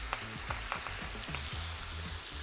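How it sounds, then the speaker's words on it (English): Knobs of butter with thyme and rosemary sizzling in a hot pan for a roast, a soft steady frying crackle with scattered small pops, fairly quiet and close, alongside some low clunks and no talking. "We're going to throw in some butter, a couple knobs of butter, some thyme, some rosemary"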